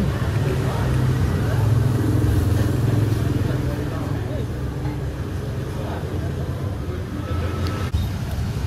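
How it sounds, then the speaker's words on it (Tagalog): Busy street traffic in Bali, with a steady rumble of passing cars and motorbikes, engines swelling and fading at close range, while people talk over the flow. "You can just watch the street, yung mga sasakyan at mga tao na dumadaan"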